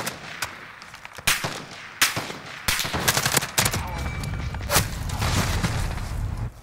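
Gunfire in Call of Duty Modern Warfare multiplayer, with sharp single shots and rapid bursts. The shots come irregularly over continuous game noise, some near and loud, others more distant.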